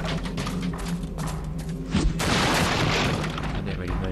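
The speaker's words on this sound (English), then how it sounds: "We can actually destroy bookcases." In a PS4 game, a bookcase is smashed apart with a loud crashing burst of splintering debris about halfway through, following steady background ambience.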